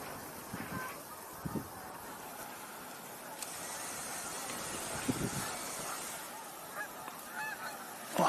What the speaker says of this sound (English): definitely hearing tundra swan vocalizations.